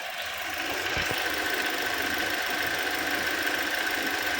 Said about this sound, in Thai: เดี๋ยวเรามาฟังเสียงเครื่องยนต์กันดู